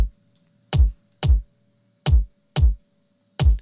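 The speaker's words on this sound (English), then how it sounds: "It's just a raw kick drum." A raw, unprocessed kick drum strikes six times in an uneven pattern, each hit a punchy low thump with a quick decay, close and dry with silence between hits.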